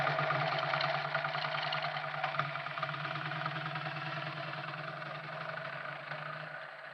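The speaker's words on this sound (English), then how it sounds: "He and his brother took a picnic lunch to Whipsnade Zoo on the outskirts of London in Warney's motorcycle and sidecar" A motorcycle with sidecar runs its engine steadily, a low, even drone with a constant buzzing hum at moderate loudness throughout.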